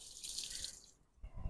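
Running water splashes steadily onto a fat tyre e-bike wheel with a hub motor, a hissy close spray that eases off briefly before a few heavier splashes.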